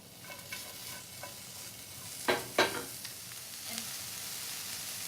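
Peppers and onions sautéing in a pan for calzone filling, a steady soft sizzle with a few sharp scraping stirs in the middle, close and moderately quiet, no talking.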